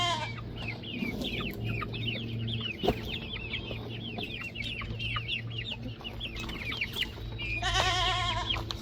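Several chickens cluck and chirp steadily over a low farmyard hum, with a louder flurry of squawks near the end.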